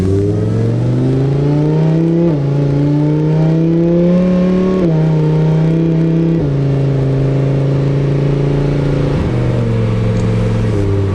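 A supercharged car accelerates hard along a short straightaway toward an office, its engine roaring loud and close, climbing in pitch through several gear changes, with each shift marked by a sudden drop.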